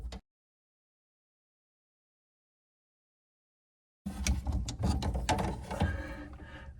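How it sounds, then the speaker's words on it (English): After a stretch of silence, a wrench ratchets on a water shut-off valve under a sink, giving a quick run of close, sharp mechanical clicks and handling noise. "Now we've got that started, we're able to ratchet."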